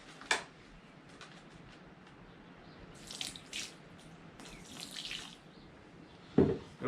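Water is added to cement being mixed by hand, heard as sparse, faint splashes, drips and trickles scattered over a quiet background.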